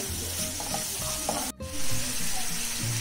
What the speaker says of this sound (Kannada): ಸ್ವಲ್ಪ ಫ್ರೈ ಮಾಡ್ಕೋಬೇಕು ಹಂಗೇನೆ.